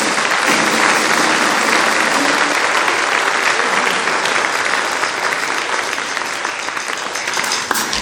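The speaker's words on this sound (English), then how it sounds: "Can we get a big collective round of applause?" Loud, dense applause from a concert audience at a college symphonic and jazz band performance, a steady wash of many hands clapping that holds for several seconds and tapers slightly near the end.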